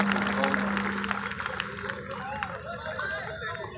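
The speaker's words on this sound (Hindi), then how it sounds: "आपको तालियां जोरदार बजानी चाहिए इस लम्हे को यादगार बनाने के लिए।" Audience at a large mushaira poetry gathering in Mumbra, Mumbai claps in a dense, loud wash of applause that holds steady for several seconds, mixed with crowd chatter and a voice speaking over it.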